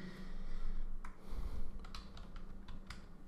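Quick bursts of keystrokes tap on a computer keyboard as a search is entered into a trading platform, close and fairly quiet, in irregular clusters with short pauses.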